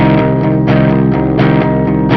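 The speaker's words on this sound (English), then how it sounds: "Very light distortion." Electric guitar chords through a Tube Screamer pedal, strummed with a light, crunchy overdrive, several strums in steady rhythm, ringing and sustained, close and loud.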